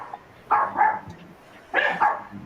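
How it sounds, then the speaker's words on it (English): Dogs bark in two short bursts, a double bark at the start and another double bark after a pause, fairly close and loud against a quiet background. "Sorry about the dogs, y'all."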